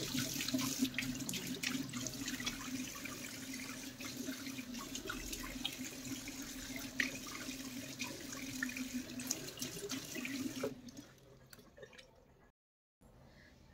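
Tap water runs steadily from a faucet into a sink during face washing, a close continuous splashing stream that stops near the end, leaving brief quiet.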